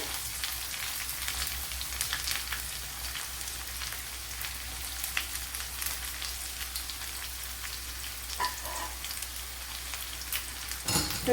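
Sliced onions frying in a pan, a soft continuous sizzle with crackles and occasional stirring scrapes, faint and close.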